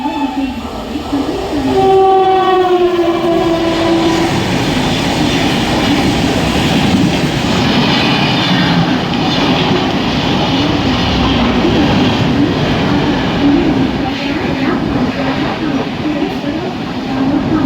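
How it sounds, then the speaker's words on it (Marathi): A Mumbai fast local bound for Badlapur pulls into Vikhroli station platform: a loud, continuous rumble with rhythmic clatter from the wheels and brief horn-like tones near the start, with a station announcement voice over it. "प्लॅटफॉर्म क्रमांक 3 पर आई हुई लोकल 10:37 की बदलापुर जाने वाली तेज लोकल है।"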